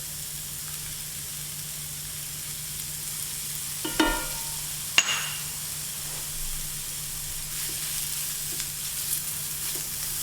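Vegetables being stirred in a pan with plenty of fresh garlic for a Greek tourlou, a steady soft sizzle throughout with a couple of sharp scraping clicks of the spoon near the middle.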